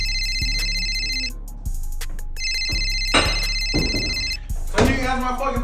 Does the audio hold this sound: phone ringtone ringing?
yes